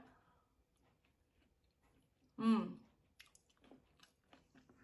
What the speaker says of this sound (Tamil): இன்னொரு வாயம் எடுத்துக்கொள்கிறேன்.